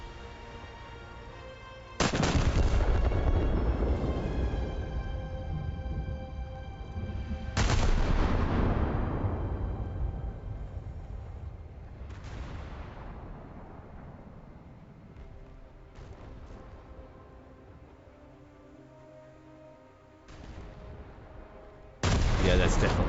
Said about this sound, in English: That was the third missile to streak across our screen.